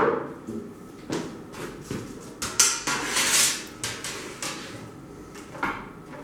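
A metal rod is handled and bent on a bending machine, producing a series of irregular metallic clanks and knocks at close range, with no talking.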